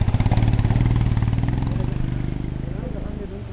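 A local motorcycle with Bangalore riders passing on a rural road sounds as a close, loud, rapid putt-putt engine pulse that slowly fades, with no talk over it.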